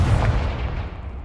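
A Confringo fire spell blast in Hogwarts Legacy lands as a heavy, booming burst with a rumbling, gunfire-like crack that decays over about a second, loud and close with no speech.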